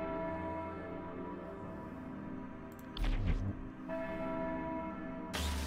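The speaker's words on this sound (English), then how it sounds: "As I heard the ritual bell ring for the second time" A ritual bell rings twice in the video game Lucifer Within Us, clear strikes near 3 and 5.4 seconds over a sustained low ambient drone, with no talking.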